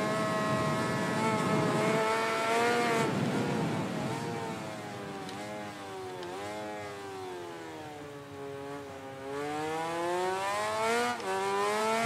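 Honda MotoGP motorcycle in MotoGP 19, racing at Australia: a high-pitched engine wails loud and close, climbing through revs with quick dips at gear changes, then pulling hard again.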